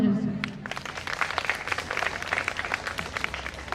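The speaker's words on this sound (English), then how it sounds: "please applaud for her as well" An audience at a school voter awareness contest on Women's Day applauds their principal: lively, continuous hand clapping from many people, moderately distant, with a sharp burst at the start.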